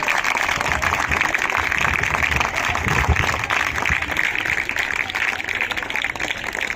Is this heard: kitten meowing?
no